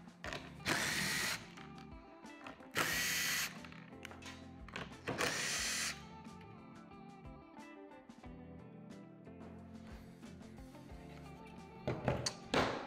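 Power drill unbolting a steel hammer-forming buck used for beading a metal panel: three loud bursts of whirring, each about a second long, with quieter ratcheting and clanking handling noise between them.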